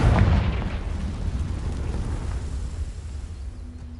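A Confringo blasting-curse explosion in a Hogwarts wizarding video game hits as a heavy low boom right at the start. A rumbling tail then fades gradually over about four seconds, with no voices.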